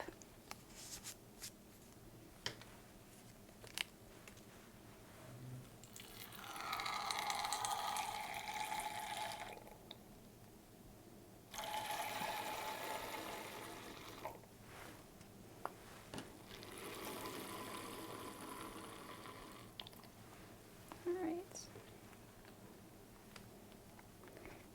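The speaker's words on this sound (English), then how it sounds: "you might want to shake your lemon juice bottle to mix it up before you pour it in your cup." Lemon juice pours from a bottle into a cup in two short bursts, a quiet trickling fill followed by a faint splash and small clicks.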